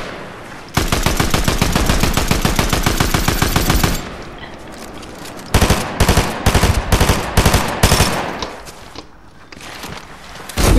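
Rapid automatic gunfire in a video game, aimed at a falling supply drop: a long sustained burst, then a pause and several shorter choppy bursts, loud and close.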